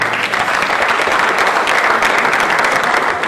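A conference audience breaks into loud, sustained applause, a thick, even roar of many clapping hands that stays level throughout, with no talking over it.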